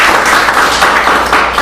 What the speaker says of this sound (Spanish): Así que en esta mañana denle un buen aplauso a nuestro Dios.